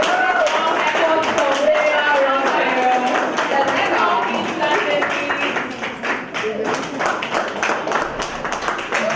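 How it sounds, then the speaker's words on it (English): An audience applauding at a real estate awards ceremony, a crowded burst of clapping mixed with cheering and chatter that tapers slightly toward the end. "A round of applause."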